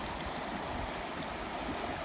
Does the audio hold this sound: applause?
no